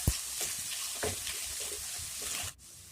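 Small pieces of chopped brinjal frying with garlic in a pan for a South Indian poriyal, a close bright sizzle with a few scraping stir sounds, then a brief dip near the end.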